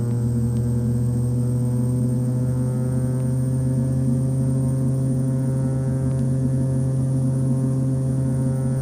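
Cessna 208 turboprop in Flight Simulator X taxiing onto the runway, a loud steady droning engine hum with a constant low tone and a high whine above it, unchanging throughout and with no voices.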